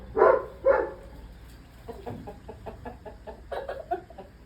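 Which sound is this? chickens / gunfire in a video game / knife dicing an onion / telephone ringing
chickens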